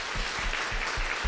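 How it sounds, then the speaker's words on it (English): An audience applauds a community-of-practice panel with a dense, even wash of many hands clapping that holds steady for the whole moment, fairly close and with no talking. "Thank you so much, panel. A round of applause,"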